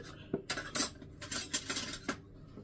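Spoons and forks being sorted after washing, giving a series of soft metallic clinks and rattles in small bursts, quiet and close with no talking.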